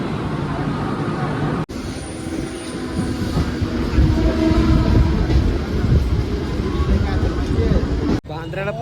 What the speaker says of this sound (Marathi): बांद्रा ट्रेन.